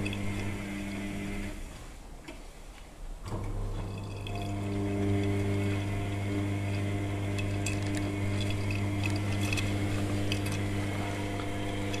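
An Electrolux washing machine rinses with water, a steady whirring motor and flowing liquid. Sloshing and splashing grow fuller after a brief pause near the start, then continue evenly.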